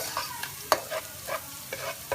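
Chicken and vegetable filling for Chinese-style samosas frying in a pan, a soft steady sizzle broken by light scraping stirs at irregular intervals, close and fairly quiet with no talking.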